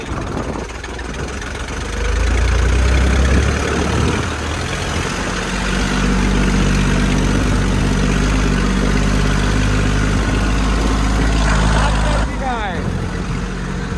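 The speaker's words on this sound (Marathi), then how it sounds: "ट्रॅक्टर आपण पुढे काढला" A tractor engine runs steadily while driving on a mountain road to Spiti, a loud low rumble that holds throughout and drops slightly near the end.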